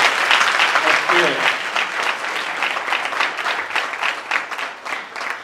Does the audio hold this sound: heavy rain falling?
no